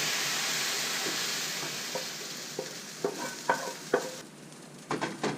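Meat dumped into a hot pot for Vietnamese banh canh soup sets off a steady sizzling hiss, with a string of soft knocks and scrapes growing stronger toward the end.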